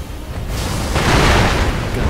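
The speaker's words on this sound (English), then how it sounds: "Firecracker!" A firecracker tool bursting in the video game Sekiro, a sudden loud crackling blast that swells into a broad rumbling roar and stays heavy to the end.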